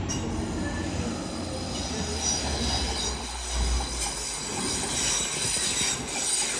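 Two TransPennine Express Class 185 diesel units coupled as a pair rumble through Doncaster station, a steady low engine drone with wheel squeal and rail noise sustained close by throughout.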